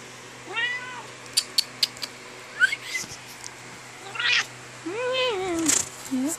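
A domestic cat meows repeatedly in rising and falling calls close by, mixed with a few sharp high chirps and light indoor noise.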